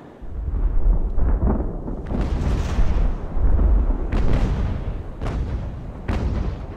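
Sailing warships trade cannon fire in Ultimate Admiral: Age of Sail, a run of deep booming shots at irregular intervals, some sharp and close, others rolling and distant, amid a constant low rumble.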